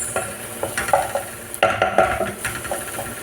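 Garlic browning in a pan for molokhia, frying with a steady sizzle while a utensil stirs and scrapes in quick, close bursts against the pan.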